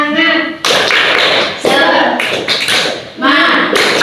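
A standing classroom of students performs a rhythmic group clapping chant, bursts of sharp claps alternating with spoken or chanted voices in a lively, close room.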